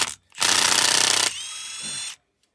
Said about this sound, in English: Pull that bolt out of there.